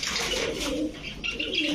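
Pakistani Kaldom pigeons coo steadily and close by, a low throaty murmur running under soft chirps and scattered higher calls.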